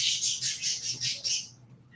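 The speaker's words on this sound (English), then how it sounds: "The birds are going crazy I think tonight." Birds call loudly in the evening, a rapid run of about six harsh, squawking bursts close by, fading out after a second and a half over a low background hum.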